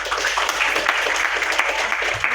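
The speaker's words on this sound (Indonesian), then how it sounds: "Tepuk tangannya untuk semuanya." Applause from participants at a book review writing workshop, a short burst of brisk clapping heard fairly close, with a little talk mixed in.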